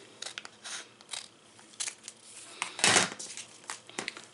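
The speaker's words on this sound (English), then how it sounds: "I'm just going to take a pair of scissors here" Scissors snip through vinyl with a series of short, crisp cuts close up, one louder crunching cut in the middle, no talking.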